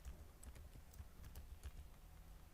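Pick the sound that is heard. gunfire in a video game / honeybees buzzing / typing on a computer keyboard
typing on a computer keyboard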